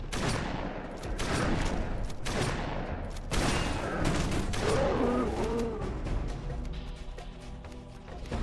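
Rapid turret fire in a video game crackles in dense overlapping bursts over roughly five seconds amid other battle noise, then thins out into quieter game sounds, with no talking.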